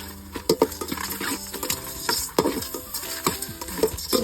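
Shrimp heads stir-fried in a pan for soup, with a sizzle under repeated sharp clicks and scrapes of a utensil against the pan in an uneven rhythm.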